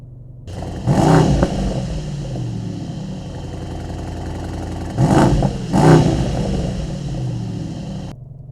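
Mercedes-AMG GT 63 coupe's 4-litre V8 bi-turbo revving in Sport Plus: a steady loud idle rumble broken by three sharp throttle blips, one early and a close pair later, each swelling and falling back, no talking.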